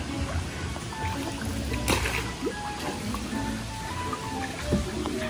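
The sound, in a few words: strong water current flowing at low tide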